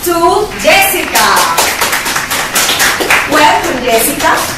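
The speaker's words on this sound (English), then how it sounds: "Let's clap to Jessica." Studio audience clapping to welcome a guest, a tattoo and piercing expert, onto a talk show set; dense, steady applause runs throughout with a voice talking over it.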